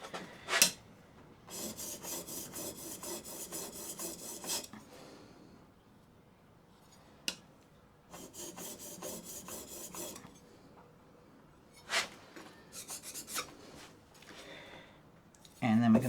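Short bursts of a blade rasping across a sharpening stone by hand to remove a fine burr, a few strokes in each spell with quiet gaps between, fairly close and moderately loud.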